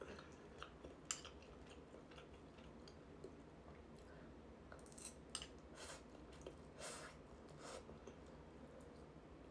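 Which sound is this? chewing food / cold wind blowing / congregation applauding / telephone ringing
chewing food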